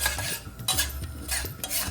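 Semolina roasting in ghee for sheera halwa, stirred in a pan with steady scraping strokes over a soft, continuous sizzle, close up and with no talking.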